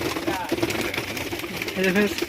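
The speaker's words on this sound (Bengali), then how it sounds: "দাদা নটটা দেখাচ্ছে সুন্দর একটা কোয়ালিটি পায়রা" Pigeons of a Rampuri or Madras flying breed, kept in a loft collection, coo in low repeated bursts close by, with a steady background of other noise throughout.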